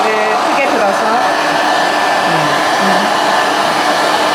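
A hair dryer blowing steadily as it dries hair during a styling lesson for a hairdressing certificate, a loud constant whooshing whine with slight shifts as the airflow moves, present the whole time without speech.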